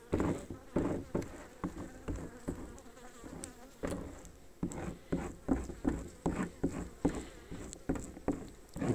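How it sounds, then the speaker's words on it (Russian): Honey bees buzz around an opened hive frame during spring feeding, a close, uneven hum broken by frequent soft taps and knocks of handling, with no talk. "Тоже тут чуть-чуть пчелки у нас"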